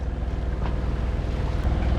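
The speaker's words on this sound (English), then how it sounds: "We're still under engine because there's no wind yet." A sailboat motors under engine across calm, windless water off Fuerteventura and Isla Lobos in the Canary Islands, a steady low engine rumble mixed with water wash and light wind buffeting on the microphone, with no talking.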